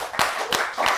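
Audience applause for a band, a short burst of close, bright hand claps in a few quick uneven pulses.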